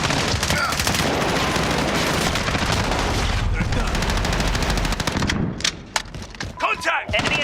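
Dense video-game gunfire in a combat match, sustained machine-gun bursts and overlapping shots at high volume that thin into scattered loud cracks near the end, with voices mixed in.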